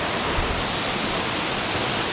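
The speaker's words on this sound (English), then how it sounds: "We have made it to the second waterfall" Segunda Cascada, the second waterfall near Jardín, Colombia, pours with a steady, dense broadband rush that stays loud and unbroken throughout, with no voices over it.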